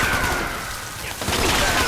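Enemy Gatling laser fire in the video game Fallout 76: a continuous dense stream of rapid crackling energy shots filling the whole moment, briefly thinning in the middle before resuming at full intensity.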